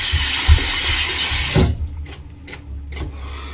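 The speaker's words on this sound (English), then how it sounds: "here I'm going to show you how you splash your face. You just get some water in your hands and rub your face down." Water splashing from cupped hands onto a face at a running sink while wet shaving, a burst of rushing, splattering water followed by a few quieter drips and wet rubs.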